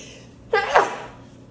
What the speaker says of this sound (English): Sorry, I think I'm gonna sneeze.